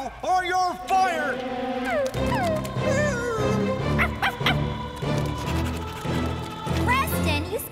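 Cartoon dog barking and whimpering in an animated children's show, with high yips and whining cries over a musical score, and a character's voice heard in the mix.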